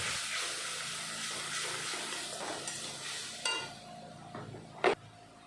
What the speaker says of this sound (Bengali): লঙ্কা বাটা একটু ভাজার পরে দিয়ে দিলাম হলুদের গুঁড়ো।